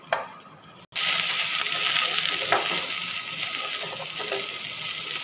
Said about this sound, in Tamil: இப்போ இந்த முட்டைகோஸை போட்டு நல்லா வணக்கணும்